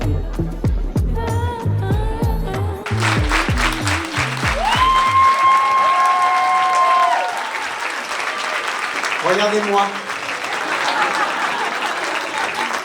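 A Cannes audience applauds steadily for about ten seconds at a Mads Mikkelsen event, with a voice and a sustained musical tone over the dense clapping, which thins toward the end.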